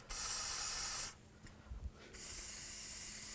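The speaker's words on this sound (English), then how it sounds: "Just going to use some rust penetrant on the bolts." Rust penetrant hisses from an aerosol can onto the wheel hub bolts of a 2008-13 Cadillac CTS, in two loud, steady sprays of about a second each, separated by a short pause with soft handling clicks.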